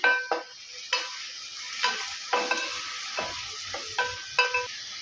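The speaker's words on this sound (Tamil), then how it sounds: "காய்க்கு தேவையான உப்பு சேர்த்து வதக்கி எடுத்துக்கலாம்" Potatoes and beans sautéed with salt in a pan for sambar, a spatula repeatedly scraping and stirring in distinct strokes over a low, soft sizzle, close and clear.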